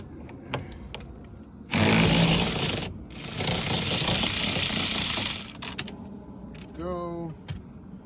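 Socket wrench with a 24 mm socket on an extension working the steering wheel bolt of a 2015-17 Ford Mustang, heard as two loud, sustained grinding, ratcheting bursts up close, separated by a brief pause, with softer clicks around them.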